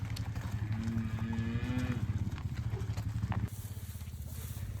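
Cattle on a winter ranch moo in long, low calls that rise and fall, with rhythmic hoof clatter and movement continuing underneath, fairly close and steady throughout.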